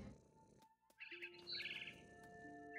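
A bird chirping in the game What Remains of Edith Finch, a few short bright tweets and trills over a quiet ambient background, fairly faint and without talking.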